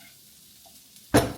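Onion, broccoli, red and green capsicum hit a pan on full flame: a near-silent moment, then a sudden loud burst of sizzling and clatter right at the end.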